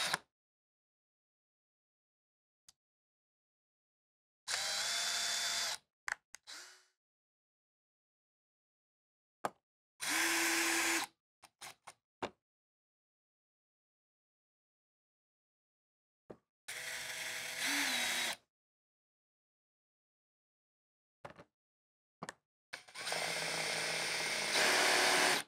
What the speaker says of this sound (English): Install the screws attaching the rooftop cover to the air conditioner.